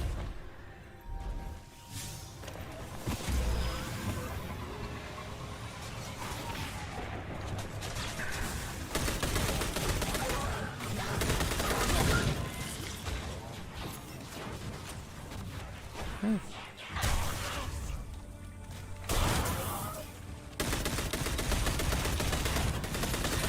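Rapid automatic gunfire from the Breakneck weapon in a video game, long sustained bursts of shots with short pauses between them, with some game effects mixed in.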